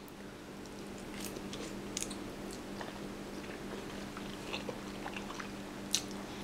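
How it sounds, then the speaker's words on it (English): Close, quiet chewing and biting of a piece of egg eaten with cutlery, soft irregular crunches and a few sharper clicks over a steady low hum, with no talking. "Put another piece into my mouth."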